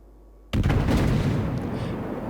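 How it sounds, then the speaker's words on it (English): Battleship 15-inch guns firing in World of Warships, HMS Warspite, a sudden loud booming blast that erupts out of near silence and rolls on with a long, heavy rumbling tail. "he's staring down the barrels of these 15-inch guns"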